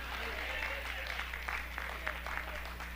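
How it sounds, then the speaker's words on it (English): A church congregation claps hands during a sermon, uneven clapping over a low steady hum, with voices calling out among the claps. "Somebody clap your hands."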